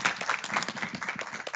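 A small audience at a student government senate session claps together, a brief burst of scattered, fairly close hand claps without talk.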